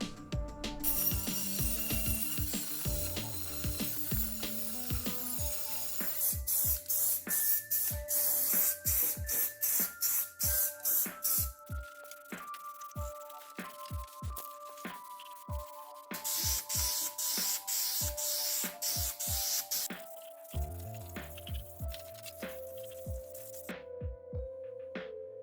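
Aerosol spray cans of primer and black paint hiss over an LML Duramax subframe in repeated short bursts, each spray starting and stopping sharply, heard close and alone against a quiet background with no talking.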